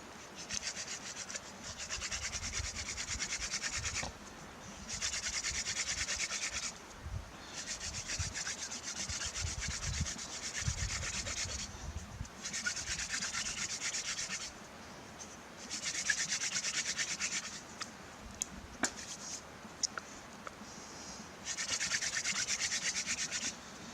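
Wooden hand drill spun between the palms against a fireboard for a friction fire, bursts of dry whirring rubbing lasting a few seconds each with short pauses between, close and steady.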